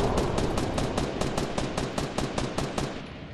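A Fortnite minigun fires one continuous, rapid, evenly spaced stream of loud, close shots for about three seconds, with nothing else heard.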